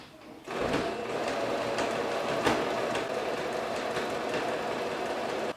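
Sewing machine topstitching men's shorts, a steady close mechanical whirring and rapid clatter starting after a brief pause and running continuously.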